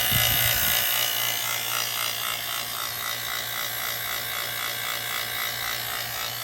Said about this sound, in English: the noise you hear is it's hooked up to the vacuum pump